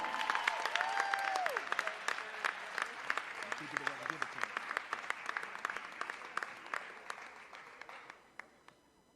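A warm round of audience applause greets scholarship recipient Brian Garcia at a children's awards night, dense steady clapping filling the hall and tapering near the end, with a voice speaking briefly early on.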